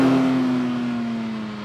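A BMW M4 CSL or Porsche 911 GT3 Touring sports car engine winds out toward 9,000 RPM, a loud steady high rev tone that holds and slowly fades.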